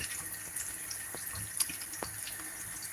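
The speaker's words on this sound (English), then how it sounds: "today I'll just add some water, which is fine as well" Water is poured into a pan of vegetable stir fry on the stove, making a steady hiss and splash that runs throughout with a few soft clinks, close by and moderately quiet, with no talking.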